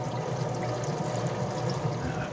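Mineral spirits draining out of a plugged skid tank, a steady pouring trickle of liquid heard close and continuous.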